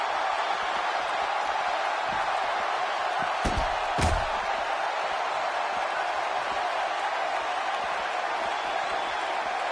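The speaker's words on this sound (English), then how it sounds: "The crowd here in Austin, Texas, really into this one" Steady roar of an arena crowd at a wrestling match in Austin, Texas, in WWE 2K17, a continuous wash filling the whole stretch, with a couple of sharp slam-like thuds near the middle.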